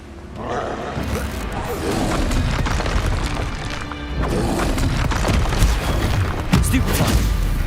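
Incendio fire spell in the video game Hogwarts Legacy, booming whooshing bursts within a dense, continuous roar of combat noise, loud throughout with a brief dip near the middle.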